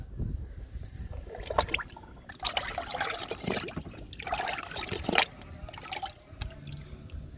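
Kitchen-waste liquid fertiliser pours onto a cherry plant in a series of close splashing trickles and drips, coming in several separate bursts with short pauses between.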